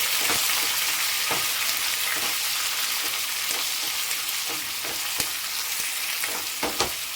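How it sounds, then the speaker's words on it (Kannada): Onions and garlic frying for sambar give a steady, close hiss of oil, broken by a series of sharp clacks as a spoon stirs them around the pan. "ಈಗ ಚೆನ್ನಾಗಿ ಫ್ರೈ ಮಾಡ್ಕೊಳ್ಳೋಣ"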